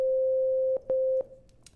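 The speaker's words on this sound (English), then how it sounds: "we have our sine wave" A pure sine tone from a Yamaha DX21 synthesizer operator sounds twice in quick succession, a steady clean pitch cut by a brief gap, then stopping, heard alone and fairly clear.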